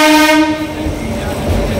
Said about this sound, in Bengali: 2 মিনিট হল্ট দেওয়ার পর আমাদের ট্রেন আবার ছেড়ে দিয়েছে